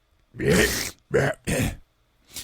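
A few short, harsh throat-clearing coughs close to the mic, three quick bursts and then a fainter fourth after a pause.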